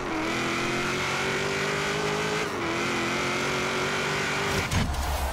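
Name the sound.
car accelerating at full throttle in video game Forza Horizon 3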